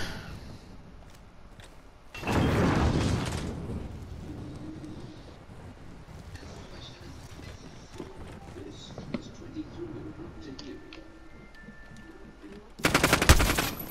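Gunfire in Call of Duty Modern Warfare, with a loud burst of shots near the start and another sharp burst at the end over a steady low game backdrop.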